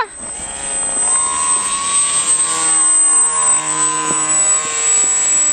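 An airplane passes overhead in the open sky, giving a steady, loud droning whine with layered harmonic tones that shift slightly in pitch as it moves, and no voices.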